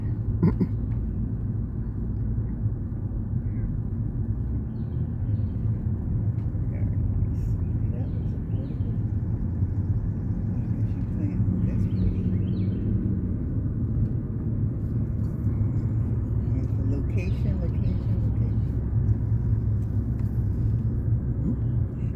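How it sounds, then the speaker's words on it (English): A car engine and road rumble drone steadily and fairly loud as the car climbs and descends hilly rural roads. A person talks over it now and then. "I'm trying to drive up and down these doggone hills"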